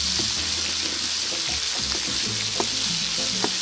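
Garlic hits a hot paella pan with a steady, dense sizzle that runs unbroken and close throughout, with faint clinks and stirring underneath.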